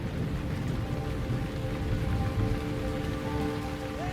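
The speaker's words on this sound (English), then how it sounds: "The storms in Liuwa are always violent and unsettling for us." Heavy rain pours steadily during a violent thunderstorm on the Liuwa plains, a dense continuous hiss and patter with low rumbling underneath, loud and unbroken throughout.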